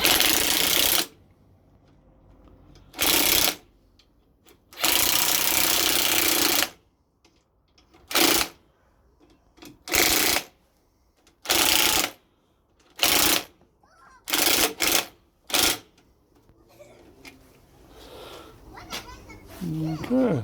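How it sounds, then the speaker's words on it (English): Bolts with spring washers are tightened on a trailer under restoration, with a series of loud, separate bursts from a power wrench broken by short pauses, and quieter handling noise in between. "We've just got some spring washers in there as well, and we're going to tighten these up right now."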